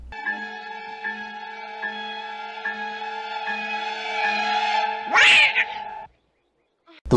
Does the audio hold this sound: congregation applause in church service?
no